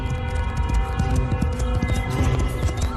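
Horse hooves clip-clop in a steady, uneven rhythm, moderately loud against a dense, busy background, with no talking.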